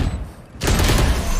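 A loud burst of rapid gunfire erupts after a brief lull in Valorant, a dense close-up spray of shots that continues to the end.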